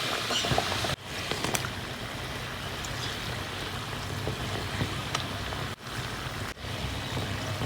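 Samosas deep-frying in oil over medium heat, a steady broadband bubbling crackle that fills the whole clip with brief dips, close and moderately loud, with no talking.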